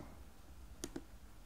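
Two faint, quick computer mouse clicks, a right-click close together, against low room hiss.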